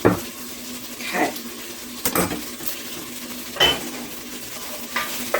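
Onions cooking in a preheated Dutch oven at high heat, with a soft steady sizzle beneath repeated scraping and clanking of a utensil stirring against the pot, the knocks recurring about once a second, close and fairly loud.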